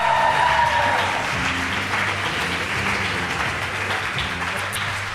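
Audience applause at a poetry slam, steady dense clapping that carries on without a break, with a faint low hum underneath.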